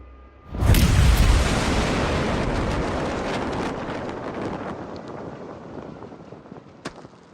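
A single massive blast from an American Paladin self-propelled howitzer erupts suddenly, then a long rumbling roar slowly fades over several seconds, with a faint sharp crack near the end.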